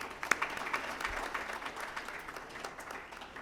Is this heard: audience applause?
yes